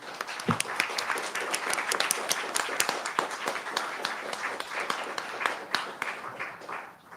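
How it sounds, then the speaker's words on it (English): A warm round of applause for the speakers at a conference session fills the room, dense steady clapping from many hands that holds for several seconds before tapering off at the end. "let's have a warm round of applause for our speakers"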